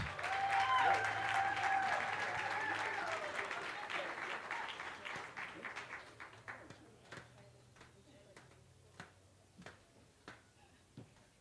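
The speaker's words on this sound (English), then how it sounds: "Can we give them a round of applause?" An audience at a business workshop in Olievenhoutbosch applauds the finalists. The clapping starts full and loud under some voices, then thins out into sparse, isolated claps.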